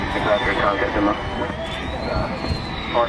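Jet aircraft engine changing power toward full throttle, a loud continuous roar with a high whining tone that rises and shifts in pitch, heard under talk.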